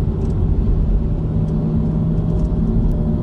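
Honda Civic hatchback, front-wheel drive with a six-speed manual, climbing a mountain road slowly in light traffic at low gear; steady close engine rumble and road hum inside the cabin, with no talk.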